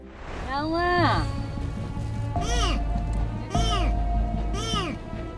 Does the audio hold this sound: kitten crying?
yes